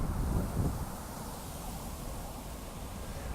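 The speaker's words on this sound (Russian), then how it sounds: "Тут довольно сильный ветер," Strong wind buffets the microphone in a quiet park, a steady broadband rush with brief low gusts at the start and no talking.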